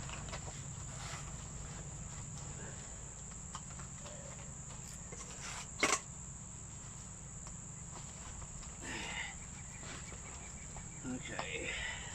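Honeybees being rehoused from a log hive give off a steady, continuous drone throughout, with a constant high whine over it and occasional faint knocks and rustles nearby.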